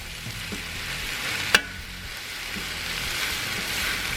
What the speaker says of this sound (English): Get some onions stirred around in there.